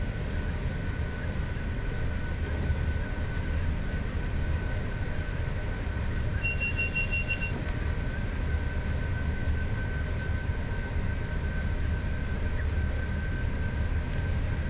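A Class 86 electric locomotive hauls a passenger train on the climb over Shap in Train Sim World 5, giving a steady, loud rolling rumble and hum with no break, and a short high warning tone partway through.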